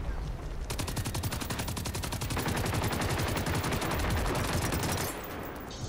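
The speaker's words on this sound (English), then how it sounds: "I'm shooting him, man. I'm burning through ammo." Rapid automatic gunfire in the video game Generation Zero, a dense, fast, steady burst of shots lasting about four seconds, loud and continuous before stopping abruptly into quieter background noise.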